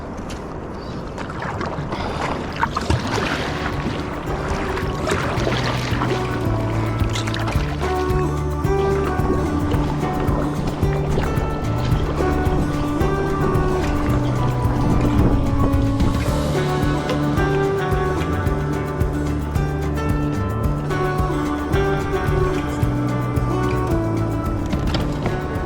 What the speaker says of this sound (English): I've got to paddle across the bay looking for campsite